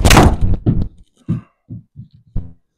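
A golf club strikes a range ball on a driving range: one loud, sharp impact at the start, followed by a few fainter thuds and knocks.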